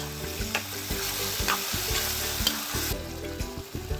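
Tomatoes sizzle loudly in a pan for a fish curry while a spatula clacks against the metal in quick, regular strokes, the frying hiss steady underneath.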